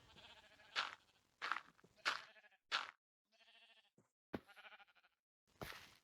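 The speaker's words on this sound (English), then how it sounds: "with the lead, I was going to get one of these sheep out" Sheep in the Minecraft video game bleat repeatedly, a string of close, loud blocky baas spaced about a second apart with brief quiet gaps between calls.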